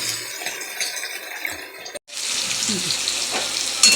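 Nigella seeds and onion hit hot oil in a scorched karahi, a steady hiss before a brief pause and then a louder, fuller sizzle with crackles as the onion fries, with no speech.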